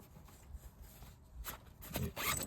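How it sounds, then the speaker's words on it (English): A zip runs open along the lid of a fishing rucksack: a faint scraping rasp in short bursts that grows louder toward the end, heard alone in a quiet room. "these zips seem a lot more rugged on the rucksack"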